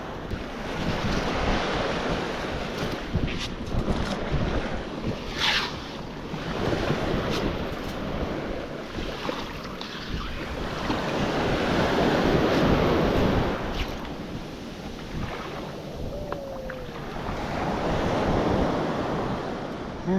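Ocean waves washing onto the beach at Manasota Key, heard as a steady, full surf wash that swells and recedes, with gusts of wind buffeting the microphone and no talking.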